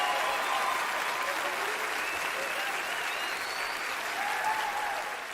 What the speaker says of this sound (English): Some of you are clapping, some are laughing